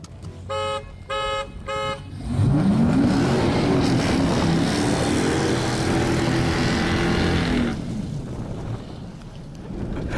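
Three short horn honks come first. Then an engine-swapped project car with traction control off accelerates hard into a drift, its engine roaring loud and rising in pitch for several seconds before easing off.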